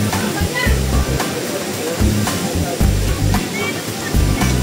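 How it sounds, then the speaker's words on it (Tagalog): River water rushing steadily on a farm, a continuous close wash of flowing water and splashing with low rumbles throughout, voices faintly mixed in. "Yung ilog."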